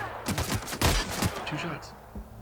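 Gunfire in the video game The Outer Worlds: a burst of several sharp, loud shots in quick succession, then a few scattered later reports, with no talk over them.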